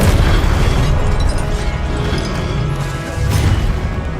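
A Confringo blasting spell from Hogwarts Legacy detonates in a loud, sustained booming explosion that roars continuously with a slight surge near the end.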